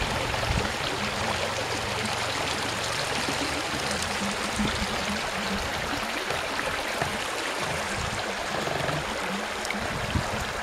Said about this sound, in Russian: Тихо журчание ручья.